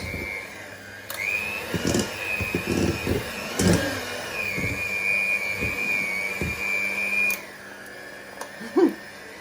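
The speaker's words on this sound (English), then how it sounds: "it's getting harder to do with the blender now." A blender grinding through thick brown rice bread dough, its motor pitch wavering under load with irregular thuds before it cuts off, followed by a short clunk.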